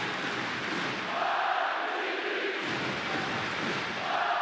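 A noisy crowd at a Davis Cup tennis match, with Marin Cilic facing Corentin Moutet, roars and chants steadily throughout, a dense and continuous wash of voices with no breaks.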